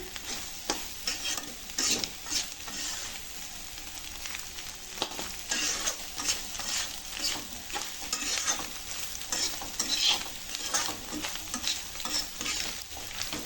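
Egg fried rice is tossed and stirred in a wok over steady frying, with continuous close scraping and clattering strokes in an uneven rhythm through the whole stretch and no talking.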